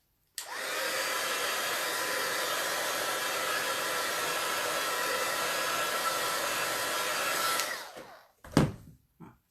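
A hair dryer blows steadily on distress ink over paper for about seven seconds, a loud continuous whoosh that winds down and stops, followed by a couple of brief knocks.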